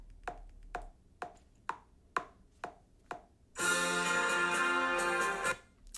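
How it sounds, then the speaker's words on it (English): Count-off of a play-along band backing track: eight crisp, evenly spaced clicks across two measures, then the full band enters loudly with a bright sustained chord that cuts off near the end. "The play-along track has a 2-measure count-off in the beginning."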